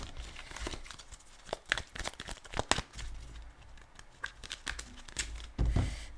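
Tarot cards shuffled by hand in a quiet room, a run of soft papery riffles and flutters with sharper card snaps, close and fairly faint, with no talking.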